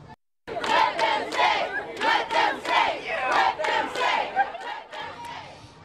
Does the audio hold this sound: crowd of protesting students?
yes